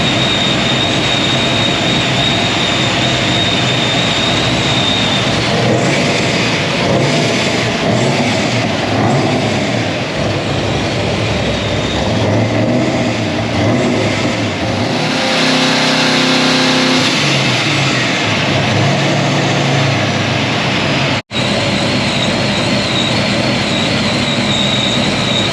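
A 1000hp supercharged LSX engine runs hard on a dyno, its loud, continuous roar rising and holding through the run, with whine and mechanical rumble dominating and a brief dropout near the end.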